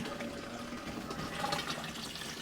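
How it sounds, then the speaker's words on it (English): Reservoir water fills an AirCube Active Oxygen ebb and flow grow system with a steady, close hiss and gurgle that holds an even level throughout. "It's water's coming in from the reservoir."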